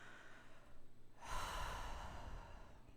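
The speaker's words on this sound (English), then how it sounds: "breathing" A single deep breath: quiet room tone gives way to a sudden, loud, airy rush of air that holds steady to the end, up close with no voices.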